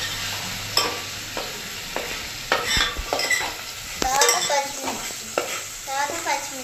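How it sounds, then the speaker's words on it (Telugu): Onion frying in hot oil in a pan, loud sizzling with repeated scraping and clinking strokes of a spoon stirring, close and continuous. "అడేషాలు నూనె వేసుకున్న తర్వాత ఉల్లిపాయ వేసుకోవాలి."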